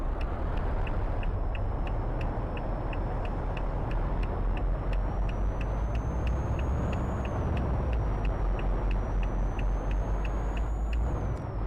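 Steady hiss of a truck air brake as the handbrake is applied in an Eddie Stobart haulage truck, a loud continuous rush of air with a faint regular ticking running through it and no voices.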